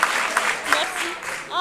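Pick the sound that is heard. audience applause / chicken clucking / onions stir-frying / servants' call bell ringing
audience applause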